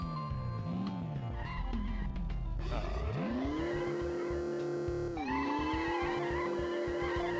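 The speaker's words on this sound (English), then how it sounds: "I love the sound of, like, peeling out" Car tires in a video game squeal and skid repeatedly as the engine revs, with rising and falling pitch sweeps, loud and continuous throughout.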